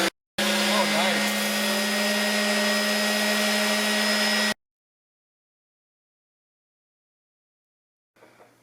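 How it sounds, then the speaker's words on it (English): DA sander switched on in a home workshop, a steady loud whirring motor hum for about four seconds that cuts off abruptly, followed by near silence and a faint sound at the end. "That's a DA sander, so it might just hang up, but turn it on."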